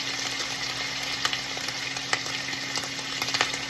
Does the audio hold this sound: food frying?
yes